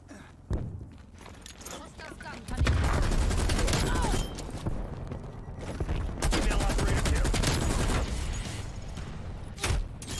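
Rapid bursts of gunfire from a Call of Duty Black Ops Cold War team deathmatch, loud and dense with booms and clattering steps, continuing through much of the stretch under occasional talk.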